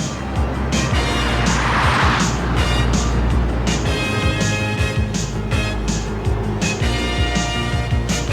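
A car speeds by close on a road, its engine roaring loudly and continuously with a rough, revving drone throughout.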